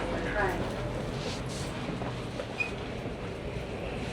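A suburban commuter train at a station in an Australian suburb, a continuous rolling rumble with occasional light clicks, heard close with a person talking over it.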